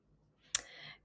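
A single sharp mouse click on a Save button, close and crisp, followed by a faint low hum in an otherwise quiet room.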